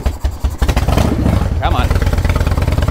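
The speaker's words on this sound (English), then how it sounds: "before it would get to this point of attempting to idle" A 1997 Harley-Davidson Fatboy with an ignition fault idles roughly up close, its loud uneven thumping pulses lurching and stumbling before settling into a ragged, loping beat, with someone talking over it.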